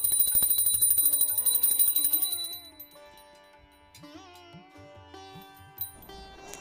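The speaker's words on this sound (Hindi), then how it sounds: "इसके बाद हमें धूप बत्ती लगा देना है और घंटी बजा दें" A small puja hand bell rings rapidly for a couple of seconds during a Tilkut Chauth puja, then its bright ringing fades out. A few softer chimes and low tones follow.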